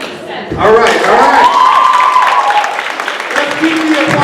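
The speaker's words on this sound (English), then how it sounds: "Let's keep the applause going for the poet from Wyandotte, Minnetonka" Audience applause at a youth poetry slam, a continuous wash of clapping and crowd noise heard under a loud, drawn-out voice from the stage, with an announcer speaking over the cheering.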